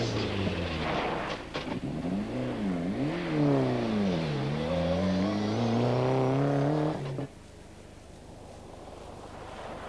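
A Ford Sapphire Cosworth rally car on a forest stage at the Robin Hood Forest Rally, its engine rising and falling through gears as it passes, then cutting off sharply, leaving faint wind.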